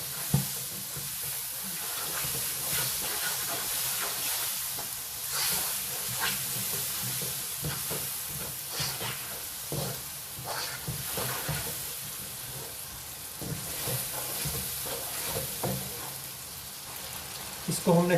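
Four medium diced tomatoes sizzle in a hot pan for baingan bharta, a continuous crackling fry with occasional stirring scrapes, close and steady.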